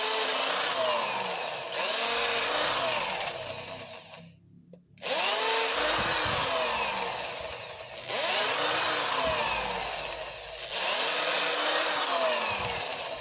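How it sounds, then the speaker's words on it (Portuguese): Power drill boring holes into a mount for an orchid, loud and close in several long bursts separated by short pauses, with the motor's pitch dropping and recovering as the bit bites. "E aqui você vai começar a furar."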